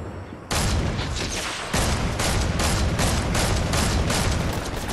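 Rapid gunfire rings out in a battle royale shooter game, a dense, loud and continuous volley that sharpens and intensifies partway through, with no voices over it.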